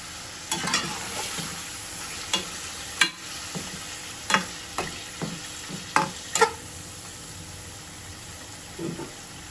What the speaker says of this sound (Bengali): আমার মশলাটা কষানো হয়ে গেছে, আমি মাছগুলো দিয়ে দিচ্ছি।